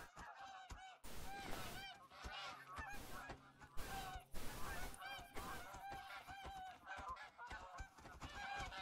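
Geese honk loudly and repeatedly in the hunting game The Hunter: Call of the Wild, set in Hirschfelden, a dense, overlapping chorus of nasal calls that keeps going without a break across the whole stretch.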